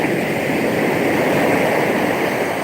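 Ocean waves roll in as a loud, steady wash of surf, a continuous broadband rush with no pauses and no voices.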